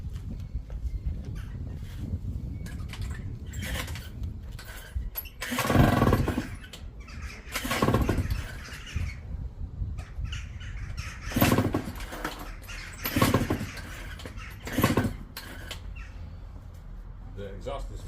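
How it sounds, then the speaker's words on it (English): Gilera DNA scooter engine running after a fuel pump fix with a noisy exhaust, a rough idle punctuated by several louder revving bursts, close by, with a voice speaking at times. "The exhaust is noisy."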